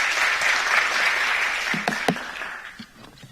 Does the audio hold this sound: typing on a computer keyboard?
no